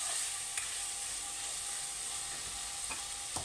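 Sliced bitter gourd fries in a pan with a steady, bright sizzle and a few soft clicks of stirring, close and continuous with no talking.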